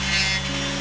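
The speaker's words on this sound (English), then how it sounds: "File the piston's teeth down until they clear the shooting cycle." Dremel rotary tool grinding down the teeth of an airsoft AEG gearbox piston, a brief, steady, close high-speed whir with a gritty abrasive edge, heard alone for under a second.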